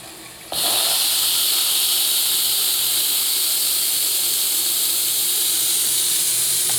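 Steam blasts from the boiler of a small live-steam launch, bursting in abruptly and then holding as a loud, steady, close hiss for several seconds.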